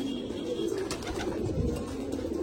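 White pigeons of the Pilanka breed coo in a low, continuous rolling murmur close by, with a few faint clicks and rustles over the top.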